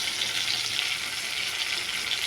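Shrimp fry in a pan with a dense, even sizzle that holds loud and unbroken throughout, with faint stirring and no voices.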